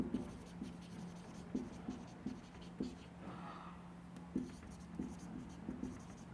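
Chalk or marker writing set notation on a board in a maths class on sets: faint, quick taps and scratching strokes in short bursts over a steady low hum.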